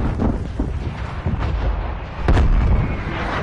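Artillery strikes explode in an online shooter game, with rumbling booms and a sharper, heavier blast about two-thirds of the way through, loud against a dull background.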